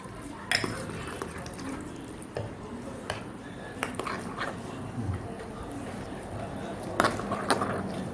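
A spoon scrapes and clinks against a pot while stirring laddu mixture, with intermittent metallic taps over a low background and a dog whimpering and barking faintly nearby.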